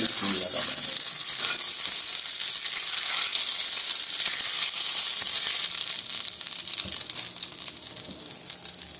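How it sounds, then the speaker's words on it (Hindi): Hot desi ghee tadka poured over moong and masoor dal hisses and sizzles loudly and steadily up close, then eases slightly toward the end. "और ऊपर से हमने देसी घी का तड़का बना के इसके ऊपर डाला है"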